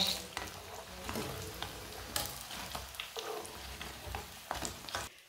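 Onion pakoras frying in oil, a soft bubbling sizzle broken by repeated scraping and clinking of a slotted spoon as they are lifted out, close but fairly quiet with no talk.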